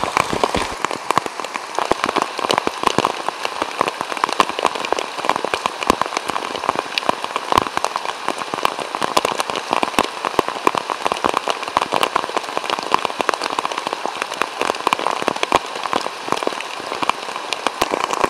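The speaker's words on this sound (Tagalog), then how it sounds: "Lumakas na yung ulan" Heavy rain pours steadily at a bushcraft campsite beside a spring, a dense hiss of drops drumming on a tarp throughout, loud and unbroken.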